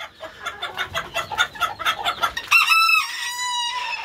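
A rooster in a poultry coop, first a run of rapid rhythmic clucks, then a loud, close crow rising and falling in two long drawn-out phrases.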